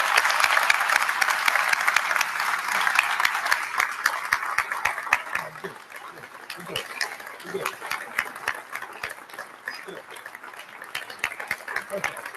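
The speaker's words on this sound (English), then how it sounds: "Please join me in a round of applause" Sustained audience applause at a U.S. Army Corps of Engineers Norfolk District change of command ceremony, many hands clapping densely and loudly at first, then gradually thinning and softening toward the end.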